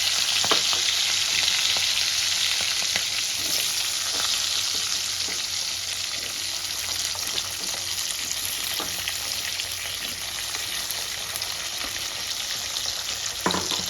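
Cut potatoes frying in hot oil with whole cumin and slit green chillies, a loud continuous sizzle with occasional stirring scrapes throughout.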